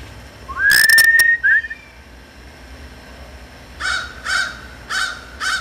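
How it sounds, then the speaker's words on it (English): A red-shouldered hawk calls from far off, giving four evenly spaced, similar cries near the end, preceded by a louder, nearer whistled call with a rising sweep. "I hear another hawk."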